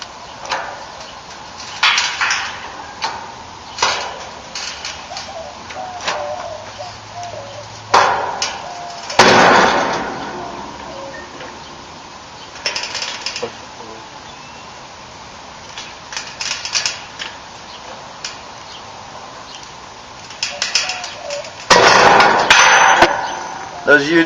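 A homemade hydraulic press works against stuck U-joints, giving repeated sharp metallic knocks and clanks spaced irregularly, with several louder bursts of banging and scraping at close range.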